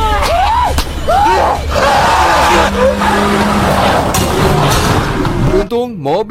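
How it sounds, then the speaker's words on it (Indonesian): A car skids off the road and crashes into the roadside in a dramatic film scene, with loud sustained tire noise and engine roar under overlapping voices and shouting, ending in an abrupt impact. "Mobil yang mereka tumpangi notok ke pinggir jalan dan Christy berhasil keluar"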